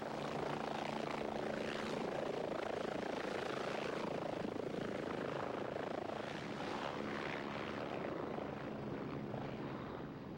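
Helicopter airlifting an injured man to a hospital trauma unit, a loud continuous rotor and engine roar with steady chopping throughout.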